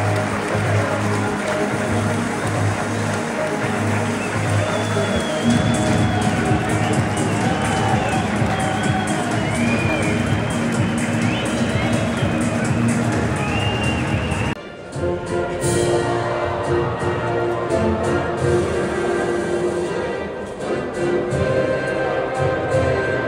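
A big stadium crowd of football fans roars and cheers without letup, loud and dense, with chants and whistles rising out of the noise and a brief dip partway through.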